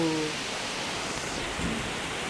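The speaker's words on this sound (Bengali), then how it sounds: "শিল বৃষ্টি হচ্ছে, শিল কুড়াতে বেরিয়েছে।" Rain and hail falling outdoors, a steady dense hiss of rain on surfaces with no distinct individual impacts, even and moderately loud for the whole short stretch, with a brief faint voice at the start.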